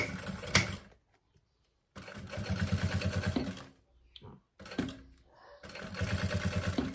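A sewing machine stitches a seam on a maternity bag in several close runs of rapid, even mechanical chattering separated by short pauses.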